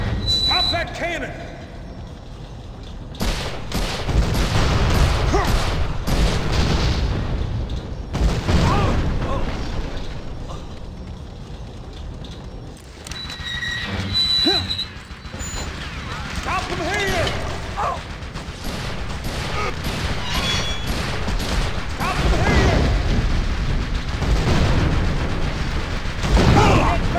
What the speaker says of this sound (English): Pop that cannon!